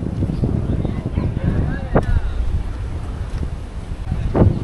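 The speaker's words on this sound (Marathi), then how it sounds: "आता तशी गाडी आहेत, पब्लिक दिसत आहेत, वारा पण सुटला." Rumbling wind buffeting the microphone outdoors at Revdanda, with a distant honk and faint crowd noise underneath.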